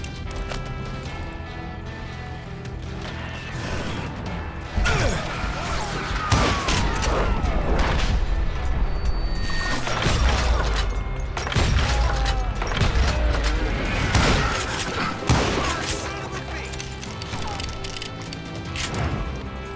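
Gunfire in the Western shooter video game Call of Juarez Gunslinger: dense, repeated shots and crashes over a busy game soundscape, sustained throughout with several louder peaks.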